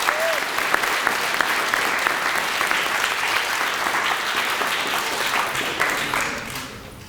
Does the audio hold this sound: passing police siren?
no